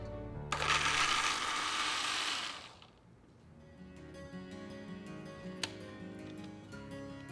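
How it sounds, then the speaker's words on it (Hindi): A kitchen mixer grinder whirs loudly, blending cashews, onion, fried ginger and garlic with water, then cuts off abruptly, leaving faint clicks and rattles afterward. "तो काजू और प्याज और साथ में जो अदरक लहसुन तला हुआ ना वो भी, ये गया मिक्सी में।"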